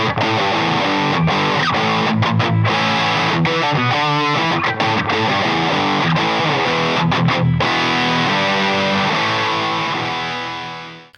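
Overdriven electric guitar, run through an OD1 overdrive pedal, plays chords and riffs with a gritty, saturated tone, loud and continuous, ringing out at the end.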